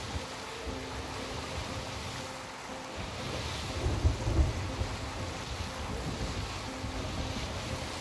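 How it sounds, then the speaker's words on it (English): A thunderstorm with rain in the pirate video game Sea of Thieves: a steady wash of rain and sea noise with low rumbling thunder that swells midway, heard alone without talk. "we are going right into the storm"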